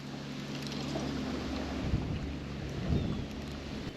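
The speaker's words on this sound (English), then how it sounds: "Yep, that wind's blowing" Strong wind blows over a warm-water discharge lake in nasty winter weather, a steady roaring rumble with gusty buffeting swells against the microphone.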